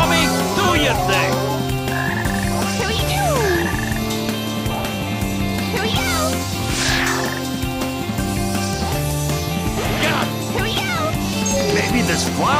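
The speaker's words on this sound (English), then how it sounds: "How are we supposed to move undetected when those frogs are everywhere?" Frogs croak over and over in the Sonic Heroes video game, a loud, steady stream of repeated croaks layered over bouncy game music and effects.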